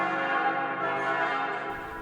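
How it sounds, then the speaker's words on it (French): Bells of the Church of the Dormition in Jerusalem ring in full peal, bright overlapping tones sounding continuously at moderate distance with no voices over them. "les cloches de l'église de la Dormition de Marie sonnent à toute volée"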